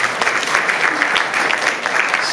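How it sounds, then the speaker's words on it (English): Applause from an awards ceremony audience, a dense, steady patter of many hands clapping at once, filling the room without a break for its short span. "Give her a round of applause."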